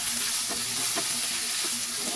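Pork frying in a pan for caldereta gives a dense, loud sizzle with a few rhythmic stirring scrapes over a couple of seconds, no talking.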